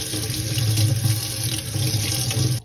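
Tap water runs steadily into a sink while makeup brushes are wetted under it, a close, continuous splashing gush that stops abruptly at the end.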